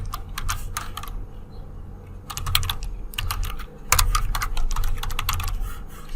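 Computer keyboard being typed on at a desk, bursts of quick, crisp key clicks separated by short pauses, close and clear with no talking.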